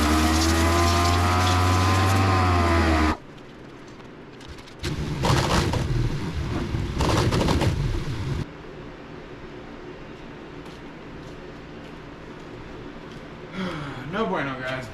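A 125 pitbike engine, being rebuilt and suspected of a damaged block, runs loud and close for about three seconds, then stops; the rest is rougher mechanical noise and bursts of handling sounds.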